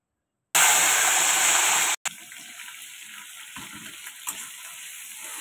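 Small prawns dropped into hot oil for a prawn malai curry. A loud, rushing sizzle lasts about a second and a half, breaks off, then settles into a softer, steady frying hiss with occasional pops.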